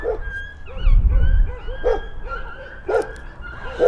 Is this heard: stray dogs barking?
yes